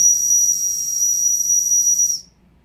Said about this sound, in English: We have a metal whistle.